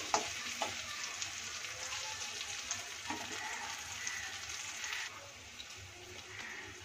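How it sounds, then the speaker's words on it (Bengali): Potato pieces frying in a pan for a Bengali rohu fish curry: a soft, steady sizzle with occasional stirring scrapes and knocks, fairly quiet and without any voices. "হালকা ব্রাউন করে ভেজে নেব আলুগুলোকে"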